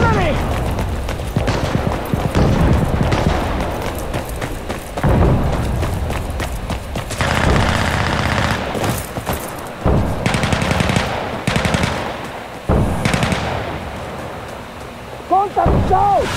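In an Insurgency Sandstorm PvP match, mortar and artillery fire boom across a battlefield alongside bursts of gunfire, with heavy impacts and crackling shots that come and go in waves.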